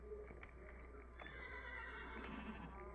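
A horse neighs in the Minecraft video game, a short whinny rising over a steady ambient bed, with faint clip-clop steps in the background.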